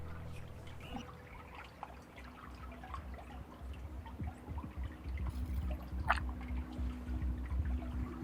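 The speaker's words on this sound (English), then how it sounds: "wifey chucked some rocks in and we've got the slow motion footage" Rocks thrown into lake water in the Lake District, a low, continuous watery churning and trickling with faint splashes, fairly quiet and steady.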